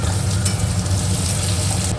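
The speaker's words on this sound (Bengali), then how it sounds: "এবার এই পেঁয়াজটা একটু ভাজা ভাজা করে নেব" Thinly sliced onions frying in oil in a pan, with a dense, continuous sizzle and crackle at close range and no voices.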